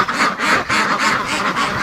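Muscovy ducks in a pen give harsh, rhythmic quacking in quick repeated bursts, close and steady throughout, with no talking.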